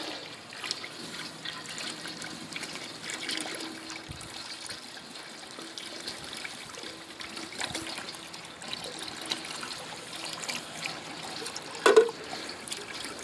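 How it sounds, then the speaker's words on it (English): Water trickles and splashes quietly as it is poured into a pan while a turkey is being prepared for smoking, a soft continuous stream with a brief louder splash near the end. "And then you add water."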